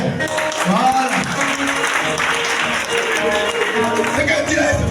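Audience applause at a church gathering, a sustained wash of clapping from a crowd heard under a voice speaking over it.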